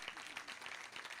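Audience applause at a Braj Kala Kendra cultural stage program, a dense, steady wash of many hands clapping at moderate distance, continuous throughout the brief moment with no gaps.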